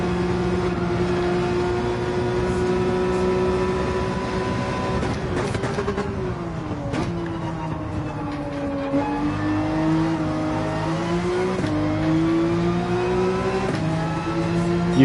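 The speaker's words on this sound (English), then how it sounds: "911 certainly enjoys being revved out." A Porsche 911 in the Gran Turismo 7 racing game revs hard and steadily, its engine note climbing and dipping through gear changes as it holds high revs for the whole stretch.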